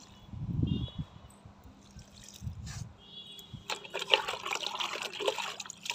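Liquid fertilizer is poured from a container onto young garden plants such as jasmine and brinjal, a soft trickling splash that turns into a steadier, louder pour in the second half, with a few low voiced sounds early on.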